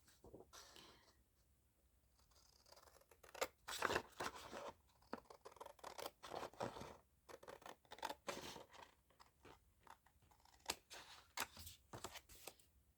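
Scissors cutting through material while sewing and making tags, a series of quiet, close crisp snips and rustles in irregular rhythm, with no talk.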